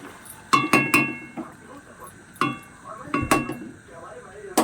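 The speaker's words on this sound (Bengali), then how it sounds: "আমি একটা পাত্রের মধ্যে ঢেলে নিচ্ছি।" Dishes and utensils clink sharply a few times as a cooked prawn and vegetable curry is poured into a serving dish, the bright knocks spaced irregularly over quiet kitchen background.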